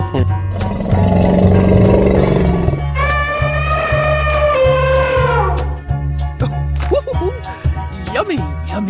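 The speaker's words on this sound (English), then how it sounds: "Elephant." An elephant in a 3D animal slide game lets out a long, wavering trumpet-like call over a rhythmic music loop, followed by scattered game effects and a speaking voice.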